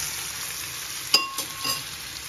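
Tomato passata fries in a frying pan for kharcho soup with a steady, soft sizzling hiss, broken by one sharp metallic clink and a couple of lighter taps.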